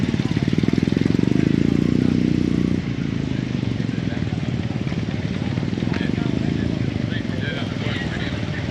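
Douglas D28 motorcycle engine cruising at around 65–70 km/h at a large vintage bike gathering, a steady loud drone with wind rush throughout, slightly quieter after the first few seconds, while a rider speaks over it.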